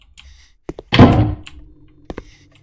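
In a horror video game set in a school, a door closes with one solid, loud thunk, preceded and followed by a few small knocks and clicks in otherwise quiet surroundings.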